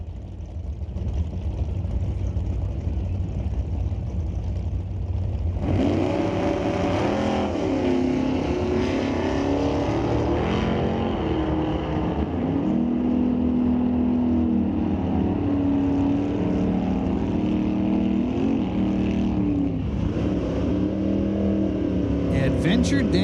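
A 1970 Plymouth and a white first-generation Camaro drag racing down the strip at Mission Raceway Park, engines roaring loudly and revving through gear changes over a sustained, wavering drone that keeps going to the end.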